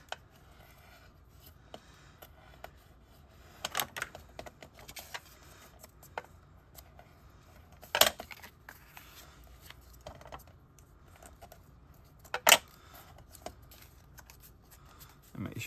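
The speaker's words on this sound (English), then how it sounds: "So we're gonna go ahead and fold those score lines." Scored paper being folded and creased into a gift card pocket, faint rubbing and soft scraping throughout with several sharp crisp snaps of the fold, close and quiet.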